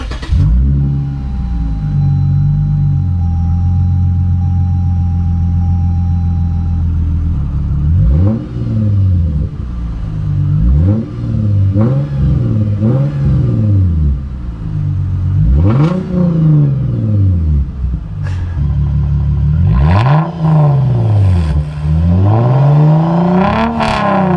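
A Lexus GS350 F Sport sedan engine cranks and fires up, idles with a steady rumble, then revs repeatedly in loud rising and falling bursts, close by.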